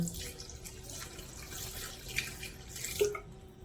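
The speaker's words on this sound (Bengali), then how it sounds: "এবার দিয়ে দেবো পরিমাণ মতো জল" Water poured into chicken stew in a pressure cooker, a steady running splash lasting several seconds at moderate level with small drips near the end.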